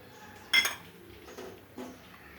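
Spoon stirring milk powder into sweetened milk in a pan for poha barfi, with a sharp clink against the pan followed by a few softer scrapes, close and fairly quiet with no talking.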